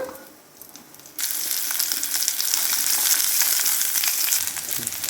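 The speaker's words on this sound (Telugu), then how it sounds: "దీన్ని తెల్లగడ్డలు క్రష్ చేసి పెట్టుకున్నాను, 4-5 పాయలు, దాన్ని వేసేస్తాను. వేపుకుందాము." Crushed garlic and dried red chili hit hot oil and sizzle loudly. After a quiet start a sudden burst turns into a steady, close frying hiss that continues for several seconds.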